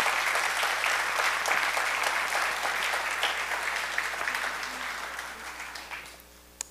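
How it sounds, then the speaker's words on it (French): An audience at an entrepreneurship gala claps for the dignitaries, a loud, dense spread of applause that slowly fades over several seconds and ends with a few scattered last claps. "On peut les applaudir"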